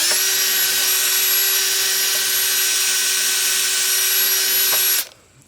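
A power tool grinds rust and lifting paint off the steel mowing deck of a John Deere 757 zero-turn mower, a loud continuous whine that cuts off sharply near the end, with no talk.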